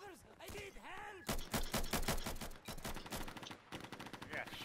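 Rapid gunfire in the video game Insurgency, loud bursts of automatic shots crackling in quick succession with short gaps, preceded by a voice shouting.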